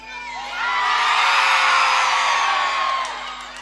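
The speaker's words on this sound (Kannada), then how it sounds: "ನಮ್ಮ ಹೆಣ್ಮಕ್ಳು ಒಂದ್ಸಲ ಜೋರಾಗಿ ಚಪ್ಪಾಳೆ ಕೊಡ್ಬೇಕು" A live crowd at a Kannada comedy show erupts in loud, sustained cheering and whooping for about three seconds, swelling quickly and then fading, with applause blended into the roar.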